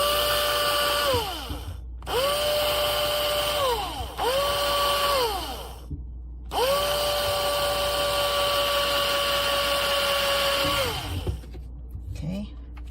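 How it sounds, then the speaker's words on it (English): A drill fitted with a 1/8 inch bit bores a pilot hole above the sink trap while an under-sink reverse osmosis filter is installed. The motor whines loudly in three bursts, spinning up and winding down each time, with short pauses between. "So first I'm going to use a 1/8 drill, but you don't drill all the way"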